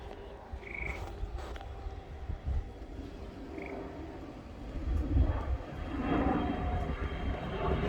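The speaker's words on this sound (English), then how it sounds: "The occasional jet flying by." A jet flies over a home garden near Bradley International Airport, its low engine roar building gradually in the background while outdoor ambience and a few faint croaks are heard.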